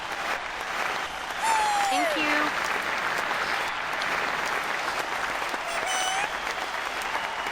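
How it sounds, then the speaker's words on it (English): Sustained audience applause fills the room after a live comedy show introduction, steady clapping with a brief spoken thanks and a whistle-like tone near the start. "So let's give her a round of applause, ladies and gentlemen."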